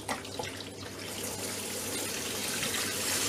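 Hot water from a boiler runs steadily out of a tap into a sink, a continuous broad rushing splash that swells slightly and stays even throughout, with no voices.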